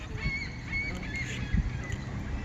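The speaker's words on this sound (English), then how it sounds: "Birds starting to get angry." Geese honk at a distance, a few scattered calls rising over a steady outdoor background rumble with a brief knock partway through.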